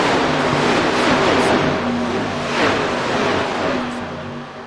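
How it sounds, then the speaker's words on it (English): Race cars, the 87 class, running laps at Talladega in a Friday night roadcar race, produce a steady, dense engine roar with a passing swell, fairly loud and continuous with no talk. "87's, they don't actually sound as loud as some of the other cars on this service"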